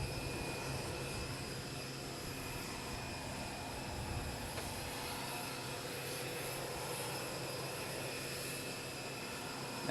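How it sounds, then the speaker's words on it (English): Air Force One, a jet aircraft, sits after landing in Florida with its engines running, producing a loud, steady roar and high whine that continues unbroken for about ten seconds. "just a few minutes before Air Force One landed, another Air Force plane landed carrying First Lady Melania Trump"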